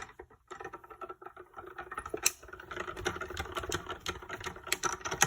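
A manual die-cutting machine being cranked by hand with a witch-shaped die inside, giving a steady run of close, dry clicking and ratcheting ticks with a few sharper snaps, alone without talk.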